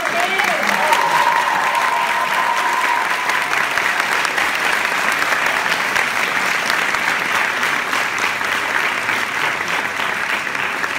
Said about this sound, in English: One last round of applause for everybody that came.